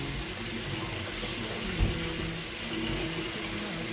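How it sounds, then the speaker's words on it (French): Water trickles steadily into a pot of cooking mbika, a continuous close running-water wash with a brief louder splash midway. "Maintenant, je pense que je vais ajouter un peu de l'eau."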